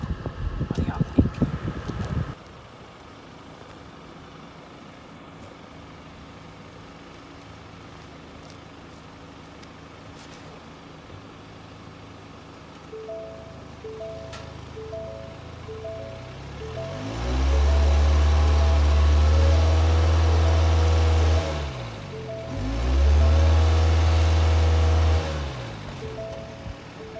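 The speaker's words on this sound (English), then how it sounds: "that was my attempt here at a burnout in the 2018 Ford Fusion" A 2018 Ford Fusion revs hard in a burnout attempt, quiet idling and wind noise giving way to two loud sustained revving bursts separated by a brief dip, heard up close with no talk.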